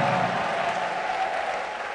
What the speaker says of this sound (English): Come on, somebody, clap your hands.